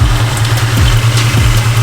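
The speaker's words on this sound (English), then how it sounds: "In a second, it's going to start idling really choppy." A Ford Terminator Cobra engine idles steadily up close with a low, continuous rumble, its roughness showing as slight unevenness rather than a strongly choppy lope; no one speaks.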